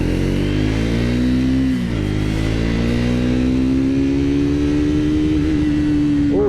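A Triumph Speed 400 motorcycle engine revs up hard and holds against the rev limiter, a loud, close, buzzing drone with a brief dip in pitch midway before climbing and sustaining again.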